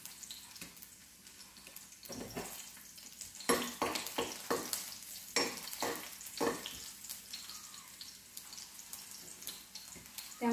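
Garlic frying in oil in a kadai on a gas stove, giving a steady crackling sizzle with sharper bursts of spitting and stirring clatter, heard close up with no talking.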